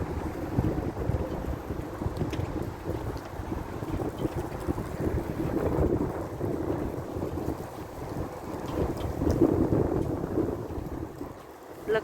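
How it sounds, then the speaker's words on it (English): Very strong wind buffets the microphone outside a Target store in Lombard, Chicago, flapping flags in a continuous loud roar with gusty swells throughout. "Can you see, or at least hear, the flags? Very strong wind."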